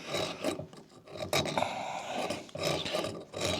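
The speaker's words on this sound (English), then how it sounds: "Simple deburr tool." A simple hand deburring tool scrapes around the edge of a cast iron race snowmobile cylinder after a meltdown, producing faint, close rasping strokes in uneven bursts with no talking.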